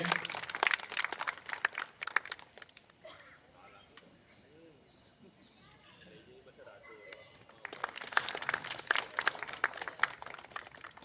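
Bursts of clapping from an audience at a society event in Jodhpur, loud at the start, fading under crowd chatter in the middle, then returning strongly near the end.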